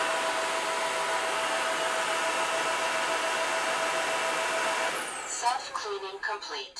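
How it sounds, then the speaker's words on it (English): An Ultenic cordless wet dry vacuum motor roars steadily through its self-cleaning drying cycle, then winds down with a falling whine and cuts off, followed by a synthetic voice speaking. "it sounds like it's just running the vacuum to try to dry it out"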